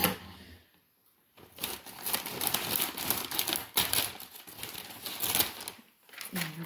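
Gift wrapping paper being cut and crinkled by hand, close and fairly loud, with bursts of crackling rustle broken by short pauses, no talking.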